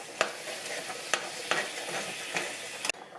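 Taco meat mixed with canned Rotel being stirred in a hot pan, a steady sizzle broken by four or five sharp scrapes of the utensil against the pan, close and fairly loud.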